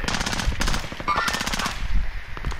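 Rapid automatic gunfire from Call of Duty Warzone, dense bursts of shots rattling continuously through the moment at close range and loud.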